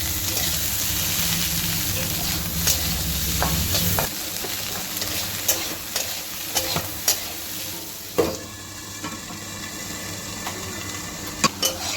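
Food frying in a pan, browning until reddish, with a steady broadband sizzle, a low hum in the first four seconds, and scattered sharp clicks of stirring and utensils against the pan throughout.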